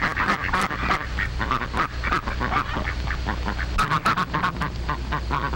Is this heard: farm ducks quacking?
yes